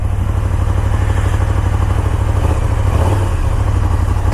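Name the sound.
KTM 1290 Super Duke R motorcycle engine running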